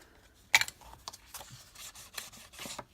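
Paper edges of a handmade quilt-cover journal being distressed by hand, giving a sharp rasping scrape followed by several softer, irregular rubbing strokes, close and fairly quiet with no talking.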